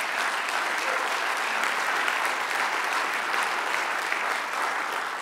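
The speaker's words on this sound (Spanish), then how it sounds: "Dale aplauso al Señor." A church congregation applauds in praise to God, a steady, dense wash of clapping that holds evenly throughout with no break.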